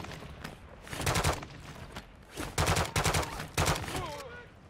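Gunfire in Modern Warfare 2 DMZ comes in several loud automatic bursts separated by short pauses, with a voice briefly audible near the end.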